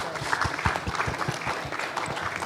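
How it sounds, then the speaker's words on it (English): Applause for panel speakers at a blue economy forum, moderate and steady with distinct individual claps, somewhat distant and fairly quiet. "please give a big applause for"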